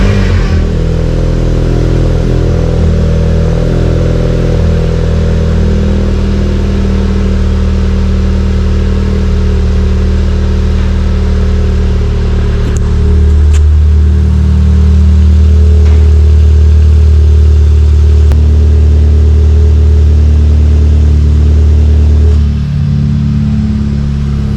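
A Volkswagen Scirocco with a loud full custom exhaust rumbles close by, idling heavily and then revving harder midway with a deep droning boom before settling back, no talking.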